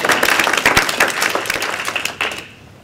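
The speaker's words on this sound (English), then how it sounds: "Could you all please now join me in a round of applause in appreciation of their time." Audience applause at a university art event during Deakin Week, a dense burst of many hands clapping that stays steady before thinning out and fading toward the end.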